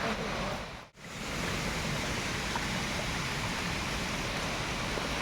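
Rushing water of a waterfall in dense forest, a broad continuous roar that dips briefly near the start and then stays steady and full.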